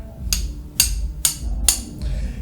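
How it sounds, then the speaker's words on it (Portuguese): A hammer strikes a nail four times in a steady rhythm, each blow a sharp, bright close tap over a low background hum. "E eu vou martelar."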